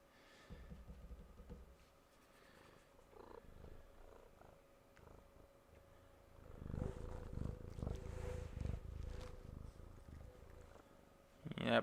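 A pet cat purrs softly up close, a low rumbling purr that swells louder in the second half amid faint background noise.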